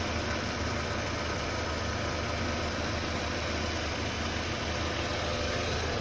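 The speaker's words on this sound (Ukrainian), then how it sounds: "Ось так працює двигун." A 2003 Volkswagen Passat B5+ with the 1.8T turbo engine idles steadily with the climate control switched on, a continuous close hum and mechanical whir running evenly throughout with no talking.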